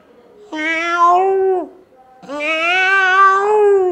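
A human voice imitates a cat, producing two drawn-out meows, the second longer and rising, with a short pause between them.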